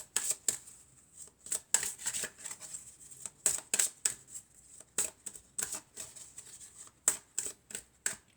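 Tarot cards are shuffled and drawn by hand in quick, close bursts of papery riffling and flicking, with short pauses between the runs.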